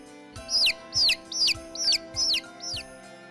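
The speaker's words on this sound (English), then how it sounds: "Next, there are baby chicks." Baby chicks give six loud, evenly spaced high chirps, each a sharp falling peep, close up over a faint steady background hum.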